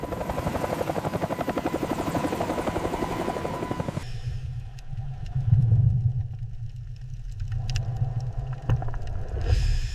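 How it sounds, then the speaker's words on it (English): A rescue helicopter's rapid rotor thumping fills the first part, then gives way to a deep, steady engine rumble that swells and fades. "Rescue helicopters begin searching for survivors from the air."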